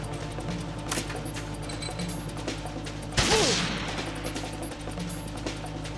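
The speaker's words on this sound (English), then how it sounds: "they're shooting the box because it's the wrong box" Guards open fire on the wrong cardboard box in Metal Gear Solid 2, a video game; a sharp burst of gunfire and a crash stand out over steady game ambience and background music.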